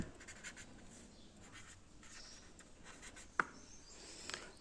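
A pen writes an accounts entry by hand on paper, giving a soft, continuous scratching with short strokes and a sharper tap near the end, faint and close.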